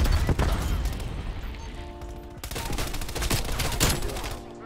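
MP5 hip-fire gunshots in Call of Duty: Cold War, a close, dense string of rapid automatic shots with short bursts and brief pauses, loud and continuous through the moment.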